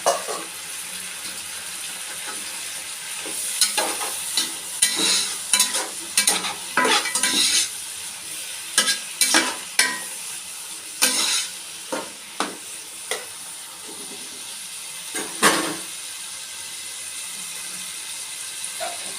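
Tomatoes fry in a pan for vegetable biriyani, sizzling softly under repeated scraping stirs. The stirring comes in uneven bursts of clatter and hiss, close up, with no voices.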